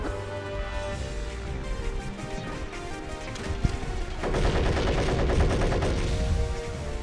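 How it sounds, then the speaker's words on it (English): Gunfire from the video game Yu-Gi-Oh! The Falsebound Kingdom sounds against dense game music and effects, with a sustained rapid burst of shots rattling through the second half. "I think it's a gun."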